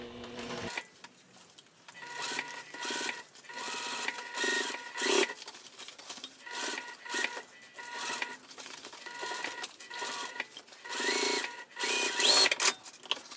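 A sewing machine stitches the exterior of a crossbody bag in repeated bursts of needle chatter, stopping and starting with short pauses, close and fairly loud with no talking.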